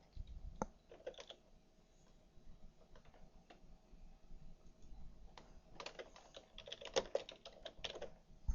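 Someone types a name on a computer keyboard, producing faint, soft key clicks in uneven bursts with quiet gaps between them and a denser flurry of taps near the end.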